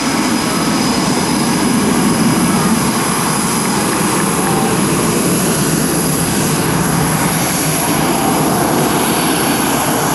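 Steady, loud roar of an F/A-18F Super Hornet jet at an air show near Naval Air Station Oceana, a continuous broadband rush of engine noise holding level with no talk.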